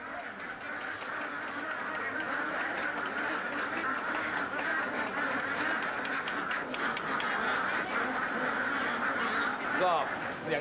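Many ducks quack continuously in a dense, noisy chorus at a Bangkok market slaughterhouse, with clattering and mechanical background noise throughout.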